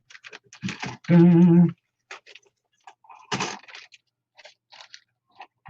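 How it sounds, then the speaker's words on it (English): A plastic bag from a Revell Spitfire model kit is crinkled up close in short, crackly bursts, with a brief voiced tone in the middle. "Plastic bag."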